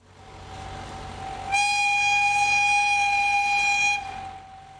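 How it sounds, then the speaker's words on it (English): A Class C50 diesel locomotive hauling a single coach sounds a loud, sustained multi-tone horn for about two and a half seconds, standing out over a steady background rumble of the train. "Trains are operated by the diminutive Class C50 locomotives hauling just one coach."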